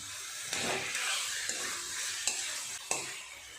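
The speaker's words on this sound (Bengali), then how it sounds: "দিয়ে দেব ভেজে রাখা আলুগুলো" Fried potatoes are stirred into a spice masala cooking in a pan, giving a steady oily sizzle broken by several sharp scraping stirs of the spoon, close and fairly quiet.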